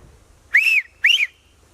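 A man gives two sharp, loud wolf-whistle-style blasts at a girl outdoors, each rising and falling, with a short gap between them and quiet background noise.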